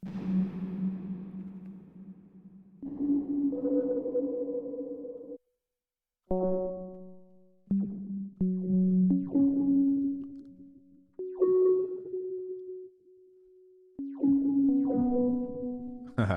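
Sparse tonal hits ringing out with long, washy tails, separated by short silences, playing alone through a big convolution reverb impulse response in the Beam 2.0 effect.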